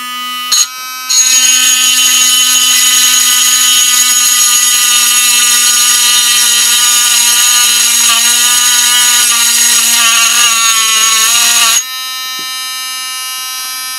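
A Drill Master rotary tool runs at a steady high-pitched whine for about eleven seconds, loud and close, with a slight dip in pitch before it cuts off to a quieter hum.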